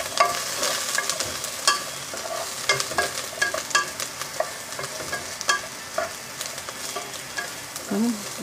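Onion sizzling in a frying pan with garlic and ginger, a steady crackling fry with scraping stir strokes throughout, close and fairly loud with no talk.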